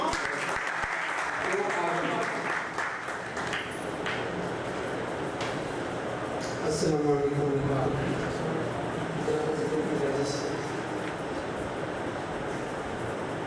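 Applause from an audience at an evening poetry gathering swells as a broad, continuous clatter of clapping, steady and fairly close throughout, with voices mixed into the noise.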